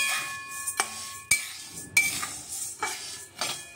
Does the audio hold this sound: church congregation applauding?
no